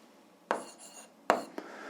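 Pen strokes on paper during an algebra exercise, with two sharp taps followed by a brief scratchy stroke, heard close and quiet.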